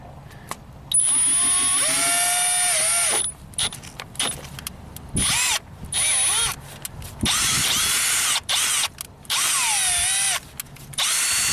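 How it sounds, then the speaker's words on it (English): A power drill whines in repeated bursts turning a flood-damaged Ford Focus dual-clutch actuator, its motor pitch dropping and rising under load, with short pauses between runs. "I'm turning the clutch actuator with my drill"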